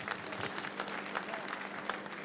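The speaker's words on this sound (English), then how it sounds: "can you give yourself a very big round of applause" A seated crowd at a Nigerian comedy show and Made in Edo talent event applauds in a dense, steady wash of clapping that holds at an even level throughout.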